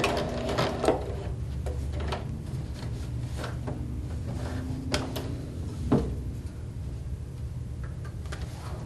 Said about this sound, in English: I'm going to back stitch again